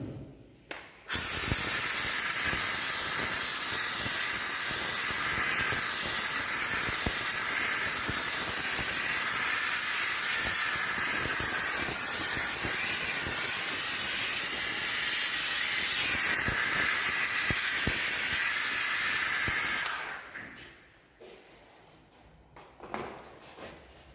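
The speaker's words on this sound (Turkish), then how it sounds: "Ve buharla yaptığım temizlik sonrasındaki e, sonuca bir bakabilirsiniz sevgili arkadaşlar." A steam cleaner blasts a steady, loud hiss of hot steam onto a motorcycle engine for about twenty seconds, then cuts off, leaving quiet handling noises.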